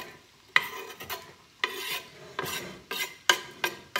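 A whole large chopped onion is tipped into a pot and stirred, giving repeated scraping, rasping strokes roughly every second, close and moderately loud with no talking.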